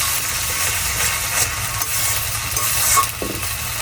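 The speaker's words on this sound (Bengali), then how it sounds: "এখন চিংড়ি মাছগুলো দিয়ে দিব।" Prawns and lightly browned onion fry in a pan, with a loud, steady sizzle and the scrape of stirring throughout and no voices.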